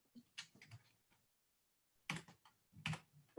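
Quiet bursts of clicking keystrokes on a computer keyboard during a policy committee meeting, a short cluster of rapid taps, a pause of about a second, then more brisk typing.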